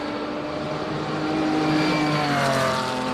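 Classic Porsche racing at the Simola hill climb, engine note rising and falling with a sustained tonal whine as the car accelerates through the bends, moderately loud and without speech.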